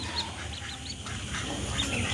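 Several short, faint calls from adult ducks drift in from a distance against a steady background hum, with no talking.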